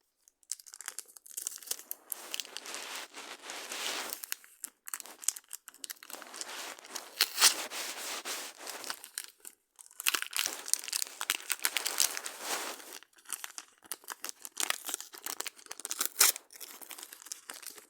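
A crinkly packet is pulled and torn open with difficulty, producing continuous close crackling, rustling and crinkling plastic, with short pauses between bursts and no talking.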